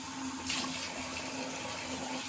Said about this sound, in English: That was the warm water, you know, put cold water.